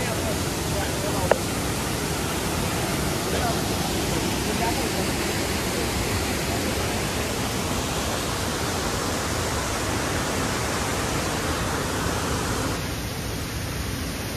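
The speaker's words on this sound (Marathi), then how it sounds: "हाच तो वॉटरफॉल" Waterfall at Gokarna, a steady, loud broadband roar of falling water filling the whole stretch without letup, with a brief sharp knock early on.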